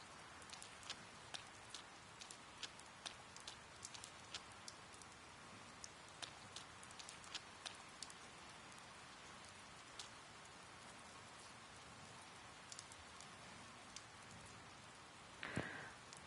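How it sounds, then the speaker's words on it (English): Steady rain patters across a surface in Persona 4 Golden, a dense, even hiss of drops with scattered sharper taps, holding throughout with no voices and a brief louder splash near the end. "It began raining."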